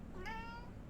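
A single clear, close meow from Gila the pet cat, rising then falling and lasting about half a second over a quiet room hum.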